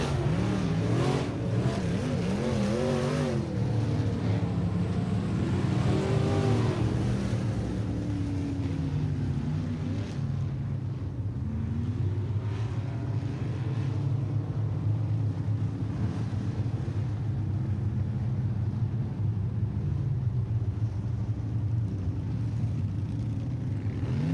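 Race cars circle a speedway oval at night, engines droning and swelling as they pass, with a steady low rumble and wind buffeting throughout, no voices.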